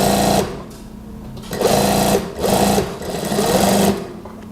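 An electric sewing machine stitches a dress (daster) in repeated bursts of fast, whirring needle action, four runs separated by short pauses, close and clear with no talking.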